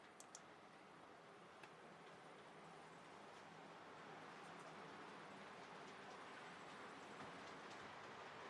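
Model trains running on a layout, giving a steady low rumble and faint clickety-clack of wheels on track with a few light clicks, quiet and continuous with no talk.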